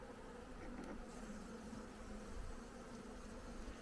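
A soft, continuous drone of many Caucasian honeybees buzzing close by at their hive, steady throughout with slight swells, no voices.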